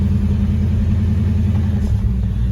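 A 1951 Chevy 3100 three-window short-bed hot rod truck with a small-block V8 idles loud and close, a deep steady lumpy rumble with no voices over it.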